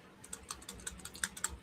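Quiet typing on a computer keyboard, a steady run of light, close keystrokes with a few sharper clacks, heard alone with no voices.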